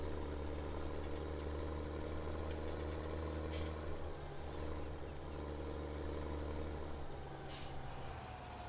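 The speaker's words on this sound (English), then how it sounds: "I heard that tractor run and I thought it was a truck." Steady diesel-style tractor engine running in Farming Simulator 17, a continuous loud low rumble with harmonic drone and faint knocking texture, holding evenly throughout with brief hissing bursts near the start and end, no talking.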